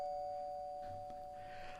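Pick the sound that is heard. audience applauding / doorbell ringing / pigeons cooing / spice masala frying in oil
doorbell ringing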